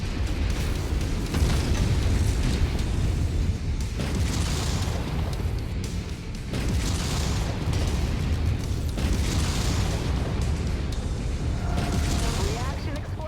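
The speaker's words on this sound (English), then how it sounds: "Reaction explosion" A mech going critical and blowing up its reactor in the MechWarrior 5 game, heard as sustained heavy booming rumble with repeated blasts through most of the stretch, loud and dense, with game voices mixed in.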